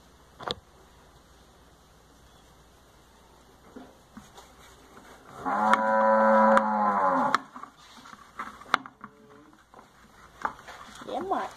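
A cow on a farm during morning milking lets out one long, loud, harmonic moo, framed by scattered knocks and clatter from the surroundings and a little quiet talk.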